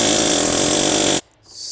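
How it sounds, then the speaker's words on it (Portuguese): A pneumatic air hammer runs in one loud, steady buzzing burst while fitting a seal on a Corsa Classic engine, then cuts off abruptly, leaving a short hiss of air afterward. "Posicionei a ferramenta, martelete pneumático, vou acionar um martelete."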